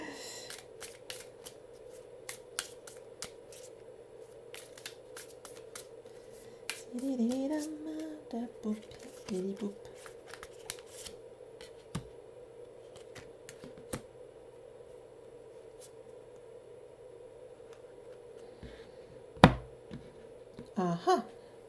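Cards are shuffled by hand for a card reading, soft irregular riffles and taps in bursts, fairly faint and close, with a quiet steady hum underneath.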